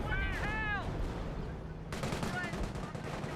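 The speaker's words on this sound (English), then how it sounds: "and now an actual barrage" Artillery barrage in the Company of Heroes game rumbles with dense, continuous booms and crackling gunfire at a low, steady level, while a voice speaks over the opening moments.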